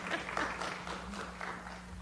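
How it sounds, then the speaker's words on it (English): Applause at a city council meeting in Schertz, a steady patter of clapping from the room with a low background hum, sustained and moderately loud throughout. "Yeah, you can go ahead and clap."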